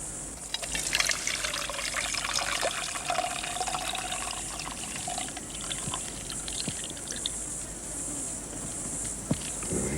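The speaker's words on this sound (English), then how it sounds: "I'll just pour him through like this." Liquid is poured through a handful of grass laid across a container as a bush strainer, making a steady, fairly faint trickle and splash with no talking.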